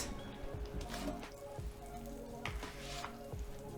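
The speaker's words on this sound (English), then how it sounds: "You can still hear some sizzling." Faint, crackly sizzling from ham and cheese sandwiches in a hot Cosori indoor air grill, with soft pops and a few quiet clicks, close by and without talk.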